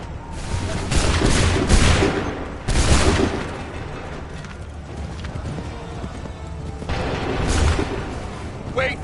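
Musket volleys crash out in Assassin's Creed III, loud broadband bursts near the start and again around the seventh second, with horse hooves clip-clopping and shouted battle orders throughout.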